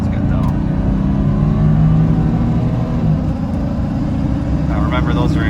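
A Mercedes R107 AMG woken after 30 years revs its engine in a steady, throaty drone heard from inside the car, with a voice speaking over it.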